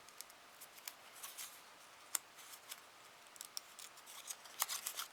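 Scissors snip through paper for an origami strawberry, with a series of quiet, crisp cuts and clicks spaced irregularly, close and faint with no talking.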